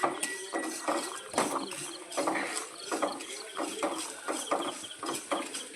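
Flattened rice (aval) dry-frying in a pan at low heat gives a quiet, irregular rattle and scrape of grains stirred against the metal, in short uneven bursts.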